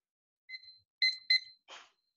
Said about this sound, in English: Now I'm going to go ahead and get a clock and we'll set a timer for you.